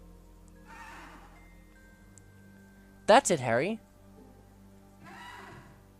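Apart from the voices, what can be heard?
Buckbeak the hippogriff's horse-like whinny, Harry Potter Prisoner of Azkaban video game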